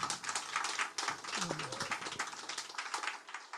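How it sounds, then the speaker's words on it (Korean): A seminar audience claps together to celebrate themselves, the dense, steady applause filling the room with some voices mixed in. "여러분들 오신 거를 스스로 자축하는 박수를 한번 치시는 게"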